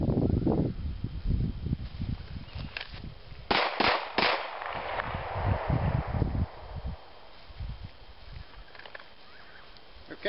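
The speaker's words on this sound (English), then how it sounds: "I'm going to shoot one shot on each of those targets." Pistol shots fired at targets during an air marshal qualification drill on an outdoor range: a quick cluster of several sharp, fairly close cracks in the middle, with wind and rustling before and after.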